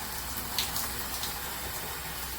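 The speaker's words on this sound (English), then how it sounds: "I'm cutting my shower on." A KAIYING chrome high-pressure handheld shower head runs water in a steady hissing spray with a soft gush beneath, fairly faint and continuous, with a brief brighter splash early on.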